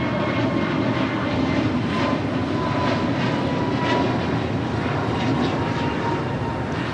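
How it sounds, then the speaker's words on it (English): An American Airlines Airbus A321neo jet passes close at LAX, a loud, constant engine roar filling the whole stretch with no pauses. "That was American Airlines Flight 2543 heading to Dallas, Fort Worth, Texas, and an A321neo"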